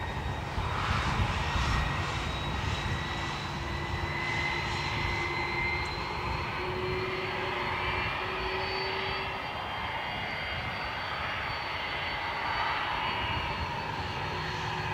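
A Ryanair jet taxis at Dublin Airport, its engines giving a steady, moderately distant drone with faint whining tones that rise and fall, with no talk over it.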